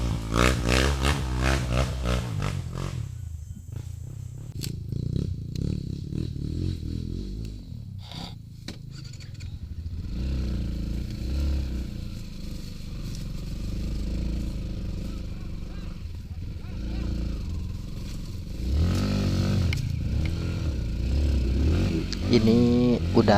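A stock Yamaha WR155R trail bike labors up a rough, rocky dirt trail, its engine revving and straining with rises and drops in pitch, mixed with scraping and clattering, while a rider talks over it.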